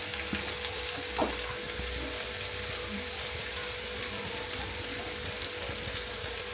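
Onions frying in a pan with garlic powder, a steady close sizzle with a brief clink or stir near the start, continuous and without speech.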